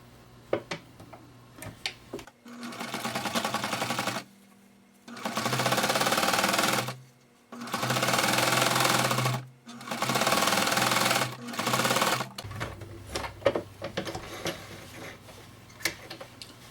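A sewing machine stitches a zipper onto a pencil case in four loud, rapid bursts of a few seconds each, separated by pauses with small clicks and handling noises.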